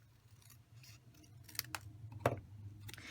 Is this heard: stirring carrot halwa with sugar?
no